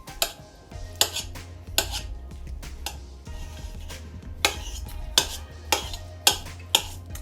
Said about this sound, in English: so I'm just gonna slice them